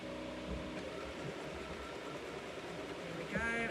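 A sewing machine stitching a quarter-inch seam while boxing the corners of a portable ironing board, run in reverse then forwards, giving a steady close mechanical whir with a brief shift near the end.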